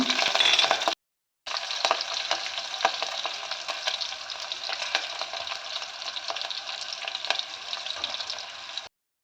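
Green chillies and dried red chillies sizzle steadily in a hot pan, a loud, dense hiss that runs nearly the whole time after a brief pause near the start, with occasional pops and stirring scrapes.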